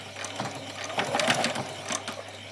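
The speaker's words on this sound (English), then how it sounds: "I'm going to pop it into the centre and then stitch this way" A sewing machine stitches a doll's spring dress in a short close burst, its motor whirring steadily with rapid needle clatter that rises slightly in the middle.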